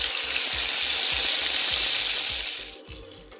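Spices hit hot white oil in a wok-style kadai and crackle into a loud, steady sizzle that fades toward the end, with faint low clinks underneath.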